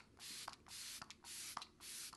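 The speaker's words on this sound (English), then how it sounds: "I think Mario does 3 sprays and I do more." A makeup setting spray mists onto a face in about four short, soft hissing bursts with brief pauses between them, close and quiet.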